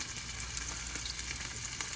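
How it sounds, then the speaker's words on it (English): Birria tacos filled with cheese and chicken sizzle in a hot frying pan, a steady soft crackle with scattered pops throughout, fairly quiet and close, with no talking. "There they are frying."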